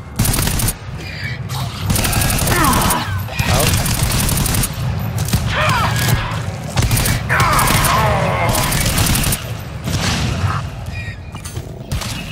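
Sustained bursts of gunfire from shooting in the co-op shooter GTFO, loud and near, with rapid automatic volleys and impacts continuing almost without pause over about twelve seconds, while voices talk faintly underneath.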